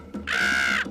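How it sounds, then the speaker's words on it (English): A single loud, harsh bird caw from a movie, drawn out for about half a second and preceded by a short scuffling sound. "a motherfucking bird"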